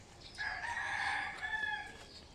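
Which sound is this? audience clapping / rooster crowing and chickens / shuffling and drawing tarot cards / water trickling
rooster crowing and chickens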